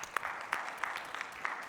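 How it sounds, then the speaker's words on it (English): Audience applause at a cybersecurity conference panel: a short burst of steady, dense clapping with a few sharper claps standing out, at moderate level and with no voices on top. "so a special round of applause to him"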